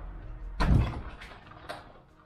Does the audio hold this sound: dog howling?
no